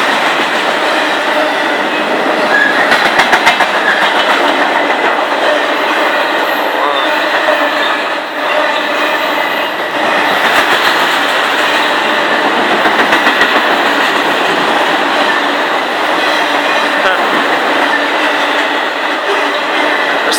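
A freight train rolls past at Elk Creek close by, its loud, steady rumble and wheel clatter holding for the whole stretch without letup.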